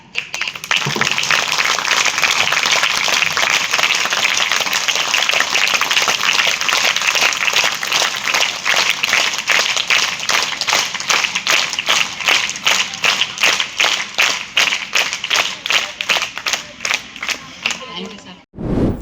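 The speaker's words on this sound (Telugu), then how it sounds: "అందించిన పత్రిజీ గారికి గట్టిగా క్లాప్స్ కొట్టాలి" A large gathering claps loudly after a meditation session at a pyramid meditation centre, a dense steady roar of applause that gradually thins into uneven rhythmic claps before stopping.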